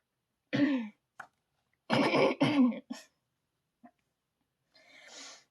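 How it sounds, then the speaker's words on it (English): Several harsh throat clearings close up, in short bursts separated by silent pauses, ending with a softer breathy rasp. "As you continue to breathe while I'm clearing my throat,"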